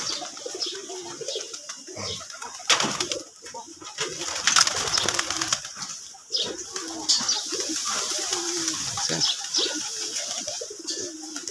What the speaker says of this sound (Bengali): সবগুলাই দেশি কবুতর।